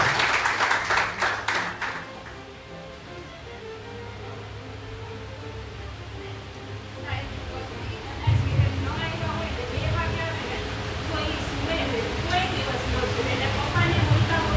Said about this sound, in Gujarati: હજી એક વાર તાળી પાડો જોરથી